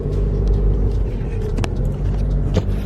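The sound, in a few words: car driving in traffic through a tunnel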